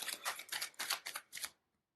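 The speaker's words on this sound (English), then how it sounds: "Deep breaths whenever you see me shuffling." A deck of tarot cards being shuffled, a run of six quick riffling bursts in close succession, crisp and near, ending abruptly in silence.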